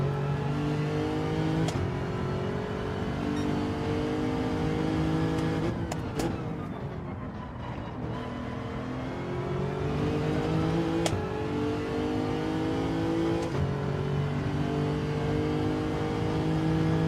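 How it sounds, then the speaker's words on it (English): Race car engine in Gran Turismo 7 during daytime online lobby racing, revving hard and pushed near its limit, climbing through repeated upshifts in a steady, continuous drone with no talk. "Revving out a bit too much."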